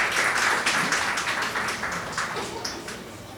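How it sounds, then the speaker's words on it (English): Steady applause from an association's annual general meeting audience, a dense wash of many hands clapping at close range that eases slightly toward the end. "Give her a round of applause, please."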